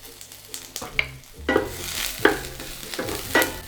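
Ginger, garlic and shallots fry in a little oil in a pan for Nyonya stir-fried cabbage, soft sizzling punctuated by several sharp scraping stirs and clinks, close and fairly quiet with no talk.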